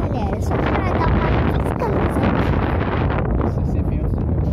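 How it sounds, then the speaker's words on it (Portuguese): Strong wind buffets the microphone at a reservoir, loud and continuous, with a voice speaking under the roar. "Esse é vento, galera."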